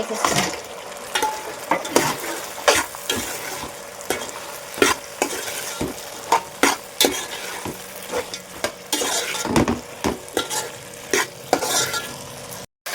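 Soya chunk manchurian is stir-fried in a pan, with a busy, loud stream of sizzling broken by frequent rhythmic scrapes and clacks of a spatula on metal, and no voices.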